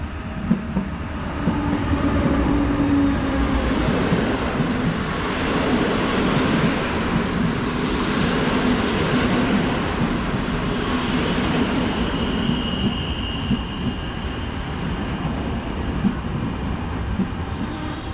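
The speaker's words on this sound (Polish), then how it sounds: "obok nas wjeżdża pociąg Lazur z Łodzi Fabrycznej do Gdyni Głównej, prowadzony przez Gryfina EU-160" The Lazur passenger train, hauled by an EU-160 Gryf electric locomotive, arrives at a Warsaw station with a loud, continuous rolling rumble of wheels and carriages passing close by, with no talk over it.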